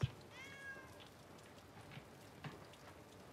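A cat meows once in the movie Missing, a short, clear rising-and-falling cry over steady rain pattering on a surface, fairly quiet overall, with no talking.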